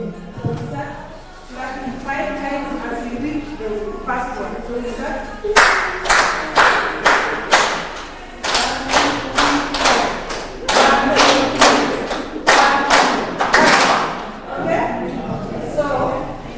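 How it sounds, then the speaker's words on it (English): A conference audience at a Zambian SME expo performs a waterfall clap, loud rhythmic bursts of clapping in quick successive waves after a stretch of speech and murmur. "we are going to do a waterfall clap"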